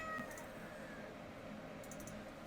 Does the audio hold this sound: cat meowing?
yes